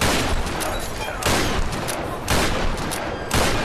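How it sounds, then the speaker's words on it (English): A scatter shotgun blasts repeatedly in the video game Tomb Raider, four loud, booming shots spaced roughly a second apart, each with a short, rough decay. "It's a scatter shotgun, for God's sake, and I'm shite with it."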